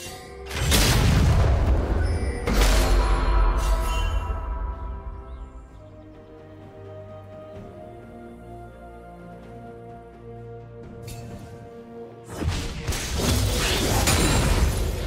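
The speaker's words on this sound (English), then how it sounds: "Blue team's turret has been destroyed." A turret is destroyed in a League of Legends match: heavy booming crashes with crumbling debris open the moment, ease into a lower rumbling lull, then surge back into loud blasts.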